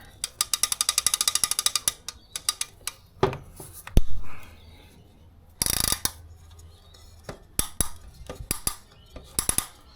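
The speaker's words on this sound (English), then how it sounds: "Get that ratchet off. I don't need to hear that." Rapid mechanical clicking from the ratchet of a 40-year-old Alvey fishing reel, heard in close bursts of varying length between quieter handling noises and brief clunks.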